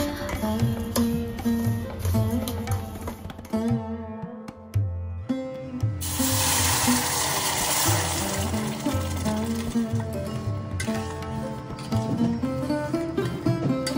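Hot water poured into a pan of semolina mixed with cardamom powder and sugar for sheera, a steady watery rush partly masked by continuous background music.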